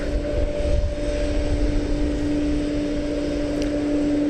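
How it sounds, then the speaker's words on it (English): MD-11 airliner at DFW Airport, a continuous loud engine roar with a steady whine throughout, heard from a distance without talking. "That was our second MD-11 of the night."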